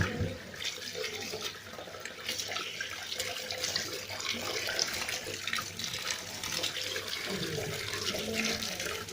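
Tap water runs steadily while an onion is washed in a kitchen, making a continuous close splashing rush that lasts throughout.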